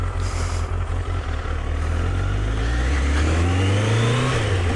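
A mid-1990s Triumph motorcycle of about 1000cc starts without the clutch pulled and settles into a steady, loud close-up engine run, with the pitch climbing as it revs near the end.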